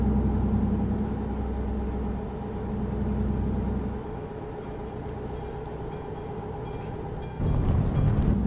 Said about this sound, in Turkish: Muhtemelen tren geçecek. Ses duyuyorsunuz arkadaşlar.